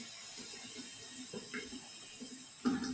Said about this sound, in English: So I'm going to turn on the faucet.